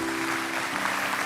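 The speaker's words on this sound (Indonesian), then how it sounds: "Kasih tepuk tangan buat Tuhan." Applause from a church congregation at a Christian sermon, a steady dense wash of clapping that fills the whole moment at even volume.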